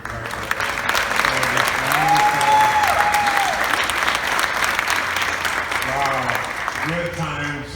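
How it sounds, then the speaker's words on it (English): A crowd at a Tacoma youth marine event gives the executive director a big round of applause, loud and sustained throughout, with voices and a brief tonal whoop rising over the clapping. "Let's give a big, big round of applause to Monique,"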